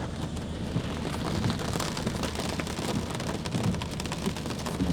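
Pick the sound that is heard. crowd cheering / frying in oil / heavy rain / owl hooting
heavy rain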